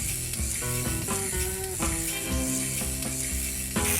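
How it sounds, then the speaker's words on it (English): A wind-up crank non-electric shaver runs with a steady mechanical whirring and ratcheting buzz, close and continuous, with slight shifts in pitch as the spring drives it. "This is a non-electric shaver."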